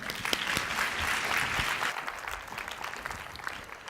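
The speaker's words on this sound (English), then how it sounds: "Thank you very much, round of applause." An audience applauds after a talk, a steady wash of clapping hands with sharper individual claps standing out, holding throughout and tapering slightly near the end.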